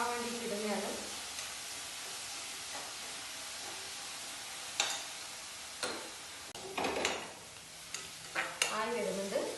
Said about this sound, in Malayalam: ഇത് ഉള്ളി സവാള ഒന്ന് വേഗം ചോക്കാൻ വേണ്ടി ഇടുന്നതാണ്